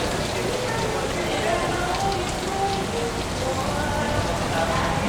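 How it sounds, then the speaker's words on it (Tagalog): Sudden rain pours down during a Sunday ride, a dense, steady hiss of drops drumming on surfaces that fills the whole stretch evenly, close and loud. "Biglaan lang umulan."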